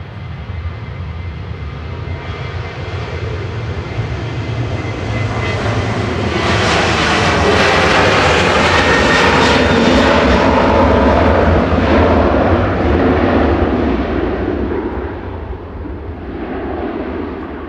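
A Ryanair jet airliner departs Manchester Airport bound for Funchal, its engine roar loud and steady, swelling to a peak mid-pass and then easing slightly as it climbs away, with no talk over it.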